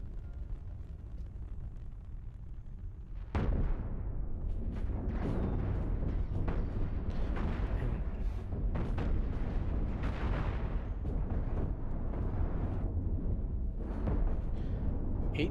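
Ship cannons in the space combat game Cosmoteer fire in rapid booming volleys, with loud explosions that start abruptly and then pound on continuously as dense, overlapping blasts.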